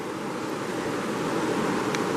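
Creek water flowing steadily over a woody debris jam in Lost Creek, heard at stream level as a continuous broadband rush with no pauses, fairly close and alone.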